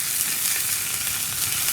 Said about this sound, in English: Right, so in go the mushrooms. Oh, don't you just love that sizzle?